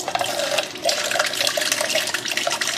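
Sparkling water spurts in an uneven, hissing stream from a Zip Hydrotap dispenser, close and steady for almost three seconds with brief sputters and no talking.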